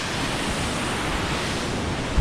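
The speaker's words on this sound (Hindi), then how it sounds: "नीचे से पानी गुजर रहा है, ऊपर छोटा सा ब्रिज है" Clear glacier meltwater stream rushes over rocks beneath a small footbridge near Skardu, a loud, dense and unbroken roar of flowing water heard close by, with no voices.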